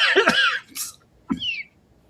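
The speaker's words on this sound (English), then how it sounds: "Coughing." A person coughs a couple of times, with a rough throaty burst followed by a shorter cough, close to the listener.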